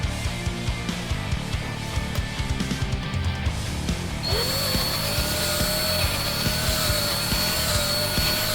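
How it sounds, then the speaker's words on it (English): A power drill whirs steadily during assembly of an ESP LTD MH100 QMNT guitar, with a rising motor whine partway through that then holds at a constant pitch, close and fairly loud. "just twist your drill."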